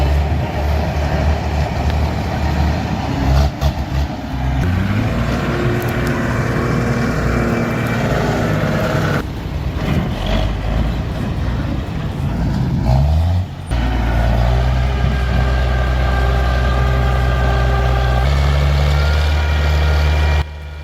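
An old TT4 crawler logging tractor running, its diesel engine a loud, continuous low roar with shifting tones and revs, a few abrupt breaks and changes, close and dominant throughout.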